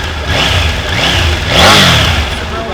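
A Triumph Tiger 900 Rally Pro motorcycle's inline three-cylinder engine revs up and settles back, a deep rumbling grunt heard close and alone.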